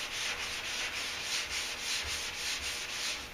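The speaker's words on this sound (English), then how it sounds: "And I'll finish sanding this" Wet sanding a truck hood, a Duramax hood being blocked with fine 400 or 600 grit wet paper, giving a steady close rhythmic rasping scrub of repeated strokes with no talking.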